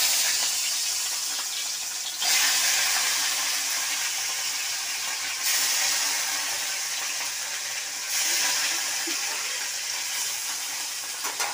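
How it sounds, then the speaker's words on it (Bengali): Fish frying in a pan, a steady broadband sizzle and crackle of hot oil that swells a little every few seconds and carries on without pause, close and fairly loud, with no talking. "মাছ দিচ্ছি, মাছ ভাজতে দিচ্ছি আর কি।"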